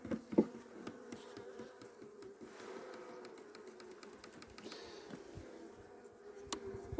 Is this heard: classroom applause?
no